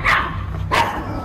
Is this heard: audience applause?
no